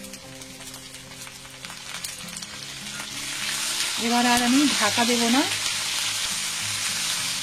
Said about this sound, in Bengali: আলুর সাথে এইভাবে ভেজে নেব আমি।